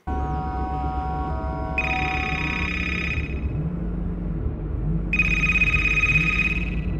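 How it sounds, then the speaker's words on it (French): A telephone rings in two electronic bursts separated by a pause, loud over a steady low rumble and hum. "l'ambiance est coupée radicalement par le bruit d'une sonnerie de téléphone"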